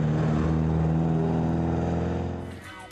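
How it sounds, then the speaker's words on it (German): A 1960 Russian GAZ Chaika fitted with a 195 hp Fiat engine labors through high mountain roads, its engine droning loud and steady up close before the sound thins out at the end. "Ein Gaz-Tschaika aus Russland mit einem Fiat-Motor und 195 PS aus dem Jahre 1960 kämpft sich durch das Hochgebirge."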